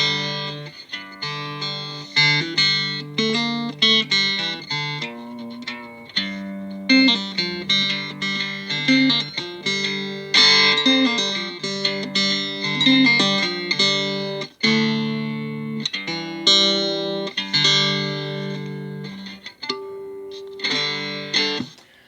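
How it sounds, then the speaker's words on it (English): An electric guitar with no effects plays chords and melodic runs through a small Roland Micro Cube amp, controls at 12 o'clock, with a clean tone, loud and close, with notes ringing and decaying between strums. "I'm just putting this through a little Roland microcube."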